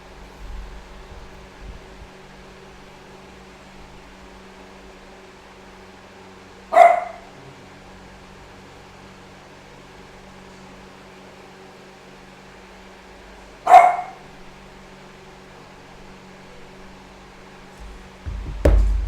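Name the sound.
dogs barking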